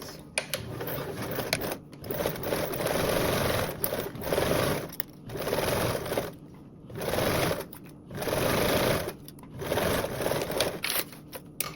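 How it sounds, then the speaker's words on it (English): Sewing machine stitching the long edges of a blanket backpack, running in steady mechanical bursts of a second or two separated by short pauses, close and clear. "now we're going to sew down these long edges with a 1/4 seam allowance"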